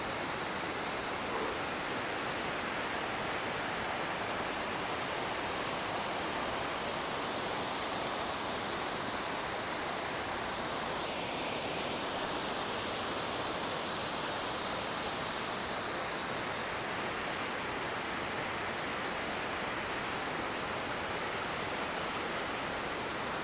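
A rushing mountain stream in Catalonia, running high with snow on its banks, produces a continuous broad roar of fast water that stays even and dense from start to finish, with no voices.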